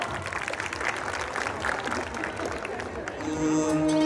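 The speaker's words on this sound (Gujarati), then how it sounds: "તાળીઓથી વધાવો" An audience at a Vishwakarma Jayanti event claps in a dense, steady patter, then the applause fades as a sustained musical tone comes in.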